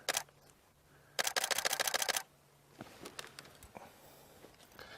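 Camera shutter clicks while photographing a male leopard on a South African safari game drive: a few scattered single clicks, then a fast, loud burst of about a dozen rapid shots, followed by more sporadic clicks.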